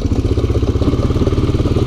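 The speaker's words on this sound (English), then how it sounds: "what the heck is rattling back here?" A Honda Fourtrax 300 ATV rattles while mudding, its mid-pitched engine running steadily with a fast, regular clattering pulse close by, no talk over it.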